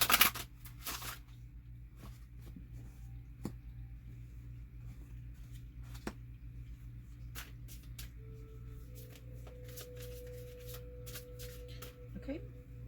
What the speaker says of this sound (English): I should probably do a little more shuffling.